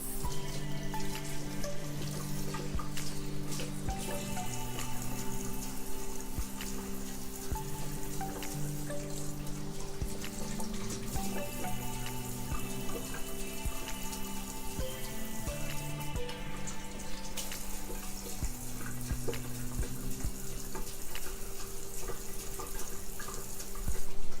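Tap water runs continuously into a sink while face scrub is rinsed off, a steady, moderately close splashing stream with no talking.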